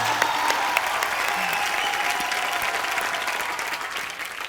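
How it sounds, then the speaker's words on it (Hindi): A studio audience at a televised comedy show applauds in a broad, steady wash of clapping that slowly tapers off toward the end. "ताली।"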